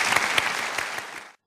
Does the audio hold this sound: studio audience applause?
yes